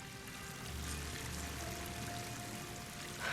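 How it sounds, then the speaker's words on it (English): Rushing waterfall in Horizon Forbidden West, a steady broadband roar of pouring water running continuously at even loudness with a faint tonal hum beneath. "That waterfall must be coming from somewhere."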